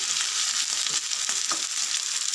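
Fish frying in a pan gives off a steady, bright sizzle with crackling oil spits, close and continuous throughout, with no voices.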